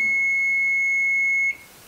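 A single steady electronic beep from a microwave oven, high and piercing, holds for about a second and a half before cutting off into quiet.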